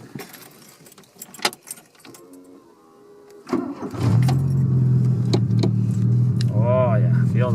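Keys jangle and a voice speaks briefly, then a small four-cylinder engine in a 1980s Dodge Rampage turns over and settles into a steady, rumbling idle that continues to the end.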